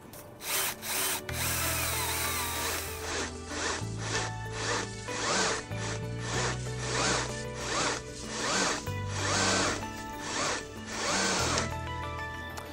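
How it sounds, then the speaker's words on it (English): A cordless drill spins brush wands inside a dryer vent duct, repeated whirring bursts with rising and falling motor pitch and rough scraping of bristles against the duct, loud and close, with no talk. "we'll attach the cordless drill to those wands and make sure we have it in a clockwise direction"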